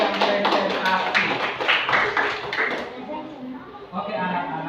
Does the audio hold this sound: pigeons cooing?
no